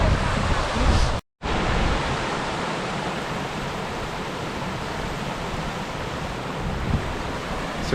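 A river in the Brecon Beacons mountains rushes loudly and steadily close by, a dense, even roar of flowing water that briefly cuts out once near the start.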